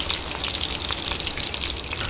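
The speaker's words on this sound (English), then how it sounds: "while we're waiting for the onions to start frying" Onions fry in oil left over from frying fish for a Bengali-style fish curry, giving a steady, close crackling sizzle that runs evenly throughout with no talk.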